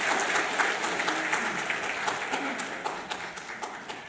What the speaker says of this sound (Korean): 축하의 박수, 위로의 박수의 박수 드리겠습니다